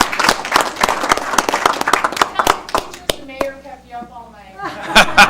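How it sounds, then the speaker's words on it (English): A council chamber audience gives a scout troop a loud round of applause, dense close hand claps that thin out and stop partway through, followed by a brief chuckle and voices. "Let's give them a big round of applause."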